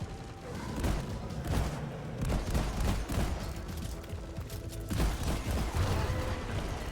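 Rapid gunfire from Deep Rock Galactic, the space-dwarf mining shooter, rattles in dense, sustained bursts close up, with heavy thumps mixed in and barely a pause for the whole stretch.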